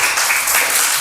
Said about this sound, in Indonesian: silakan ditutup dan tepuk tangan untuk kelompok 1